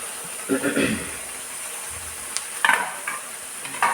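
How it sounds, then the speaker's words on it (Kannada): Tomato, onion, grated coconut and turmeric frying in a pan for a chicken gravy, a soft steady sizzle with a few stirring scrapes and clinks over a constant background hiss. "ಇದನ್ನು ಸ್ವಲ್ಪ ಈಗ ಫ್ರೈ ಮಾಡ್ಕೊಳ್ಳೋಣ ನೋಡಿ ಟೊಮೆಟೊ ಈರುಳ್ಳಿಯನ್ನು"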